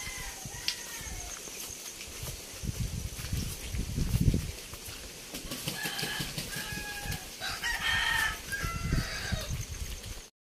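A rooster crows a few times at a distance beside a river, mixed with clucking fowl and other birds in a cold, windy open outdoor setting.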